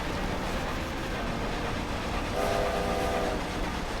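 A train in the video game Forza Horizon 2 rumbles past steadily with a dense rolling roar, and a horn tone sounds briefly partway through. No voices.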